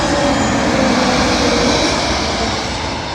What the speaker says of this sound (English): Arriving in now is an Aer Lingus Airbus A320neo from Corkscrew to London Heathrow.